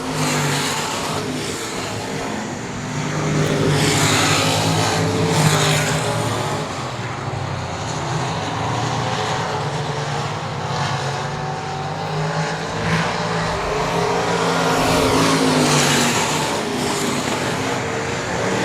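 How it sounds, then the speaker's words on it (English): A race car with an L87 crate motor at full throttle down the straightaway of an oval track during an all-star invitational race gives a loud, sustained engine roar that swells and eases as the car passes. "Hard on that crate motor in that L87."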